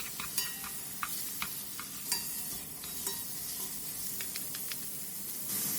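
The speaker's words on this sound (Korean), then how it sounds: "냄비에 들기름 둘러주고 돼지 앞다리살과 다진 마늘, 소주를 넣고 센 불에서 볶아주다가" Pork shoulder, minced garlic and soju stir-fried over high heat in perilla oil in a pot, a steady sizzle with intermittent sharp scraping clicks of stirring, close and continuous without voices.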